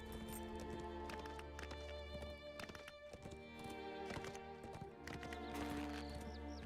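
Horse hooves clip-clop in Lord of the Rings Online, a busy run of hoofbeats layered over dense game music and ambient tones, continuous from start to finish.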